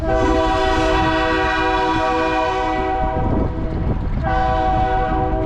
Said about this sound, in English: So you hear our train.